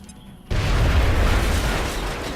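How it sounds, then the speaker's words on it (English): A grenade blows up in the turn-based strategy game XCOM Long War: one loud, close boom that hits suddenly and leaves a long rumbling roar. "we will just get a grenade on his face."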